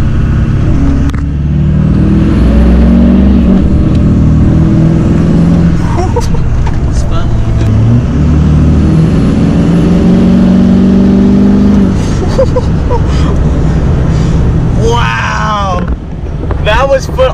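A slammed 2004 Chevy Silverado 3500 on 24-inch wheels, with its LLY Duramax diesel floored, roars loudly and continuously under heavy acceleration, with wind buffeting the microphone and someone talking over it near the end.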